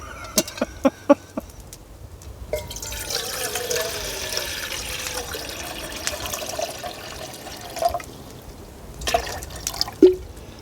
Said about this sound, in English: we got some water in the pot.